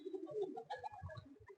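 Madrasi pigeons coo softly up close, a few low throaty calls in a short rhythmic series with faint chirps between them, and no talking over them.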